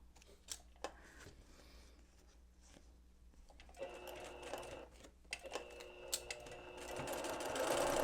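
A sewing machine stitches a quilt seam for a Double Monkey Wrench block, starting with a few scattered clicks and then running in a steady rattling whir that grows louder toward the end, with no talking.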